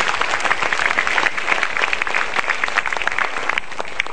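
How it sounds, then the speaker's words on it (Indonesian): A large studio audience at a motivational talk show gives sustained, dense applause, loud and even throughout with individual claps standing out in the mix. "Super, kita berikan tepuk tangan."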